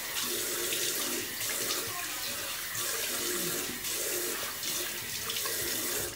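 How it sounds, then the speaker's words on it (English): A tap pours a strong, continuous stream of cold water into a sink for a rinse while shaving, loud and steady throughout with slight shifts as hands move under the flow. "Cold water rinse."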